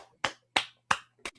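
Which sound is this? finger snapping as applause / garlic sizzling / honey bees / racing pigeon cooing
finger snapping as applause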